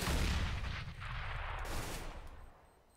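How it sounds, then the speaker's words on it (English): Gunfire in Counter-Strike on the Inferno map during a professional Starladder match, heard as a dense, loud burst of rapid shots and booming blasts that fades toward the end. "Dreamers snuck behind as well from Quad, gets the frag"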